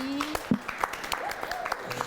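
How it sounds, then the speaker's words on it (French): Scattered clapping from a small audience welcoming a guest, uneven claps and sharp hand slaps under people talking and a voice speaking in French. "On lui souhaite la bienvenue avec beaucoup d'applaudissements bien nourris."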